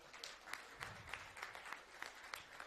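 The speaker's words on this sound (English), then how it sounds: "Clap hands for that." Scattered applause from an audience at a Thaton property launch, steady light clapping with a few sharper claps, fairly faint and distant throughout.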